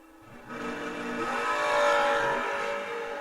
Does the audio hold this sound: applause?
no